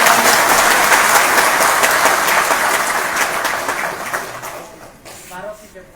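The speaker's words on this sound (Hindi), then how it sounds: "नुपुर देपरमा के लिए ताली मारिए।" An audience claps loudly and steadily at a foundation day celebration and oath-taking ceremony in a hall, the broad applause fading toward the end.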